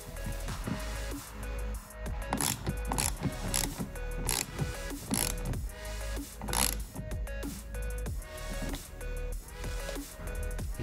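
Mechanical ratcheting and gear-like clicks repeat in bursts while a bumper screw is tightened on a Tesla Model Y during mud flap installation, close and steady with no talking.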